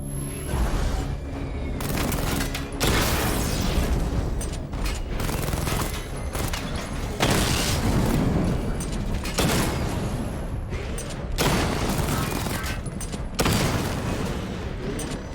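Continuous heavy weapon fire and explosions as targets are destroyed in Batman: Arkham Knight: repeated loud booming bursts and rattling volleys, layered and sustained throughout with no talking.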